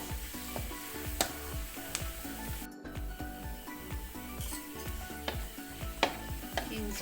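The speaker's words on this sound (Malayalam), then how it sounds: "ശരിക്ക് ബ്രൗൺ കളർ ആകുന്നത് വരെ നമുക്ക് ഉണക്കി നന്നായിട്ട് എടുക്കണം" Ginger fries in oil in a pan, browning for a Kerala sadya puliyinchi curry. A loud, continuous close sizzle goes on throughout, with repeated sharp spatula scrapes and clinks and a brief dropout partway through.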